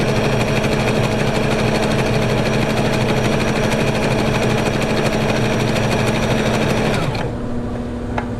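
A Brother XL3750 sewing machine stitches with a fast, even mechanical whir and clatter, then stops abruptly near the end, leaving a low motor hum.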